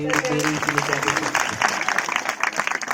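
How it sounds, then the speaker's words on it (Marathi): A crowd claps in a burst of applause at a religious discourse gathering, rapid and dense, with a voice speaking at the start. "ओके, टाळी वाजवा।"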